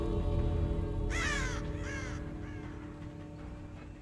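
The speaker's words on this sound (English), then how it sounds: "there's no way in hell I could have disturbed that crow" A crow in Dead by Daylight gives a few loud, harsh caws in quick succession over a steady low ambient hum, with no talk.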